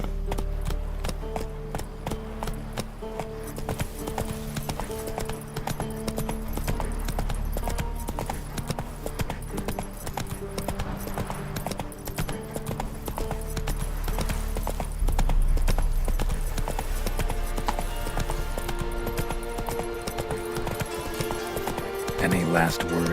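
Roach, a horse in the video game The Witcher 3: Wild Hunt, gallops with steady, rhythmic clip-clopping hoofbeats throughout, mixed with loud game sound and voices.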